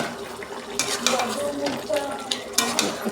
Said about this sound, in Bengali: এবার একটু আমি এটা নাড়িয়ে নেব।